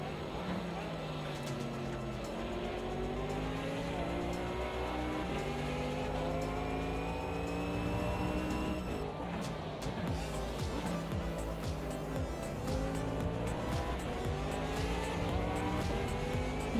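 A Porsche RSR race car in a racing video game, its engine note rising and falling through gear changes with steady tire and road noise throughout, loud and continuous under a commentator's voice.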